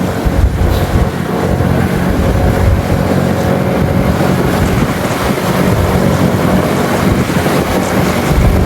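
Strong wind at sea roars steadily over a fishing boat, with loud buffeting gusts against the microphone and broadband water and hull noise throughout, no talking.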